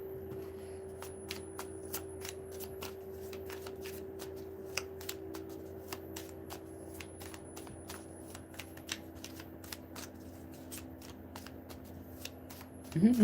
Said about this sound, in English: And here I be sitting here shuffling my cards unbothered.